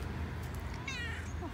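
A stray cat with half an ear missing meows once, a short rising-and-falling cry heard close by outdoors over a steady low background rumble.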